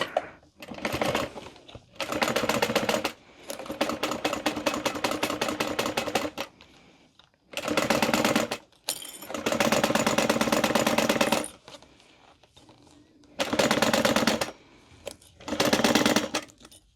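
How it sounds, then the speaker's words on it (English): A sewing machine stitches a handbag made from the Mr. Heckles pattern by Sincerely Jen Patterns. Close, loud whirring stitching runs in about seven bursts of one to three seconds, separated by short quiet pauses, with no talking. "And then I'll start my stitching down this side."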